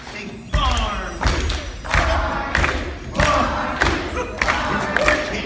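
A crowd at a Universal show claps along in steady, loud rhythmic bursts, with a roughly half-second pulse and a lively murmur of voices underneath.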